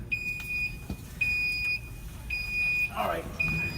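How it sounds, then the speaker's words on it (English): Smoke detector in a New York building emitting repeated shrill high-pitched beeps in a regular on-off pattern, close and clear, while people talk over it. "And then the smoke detector."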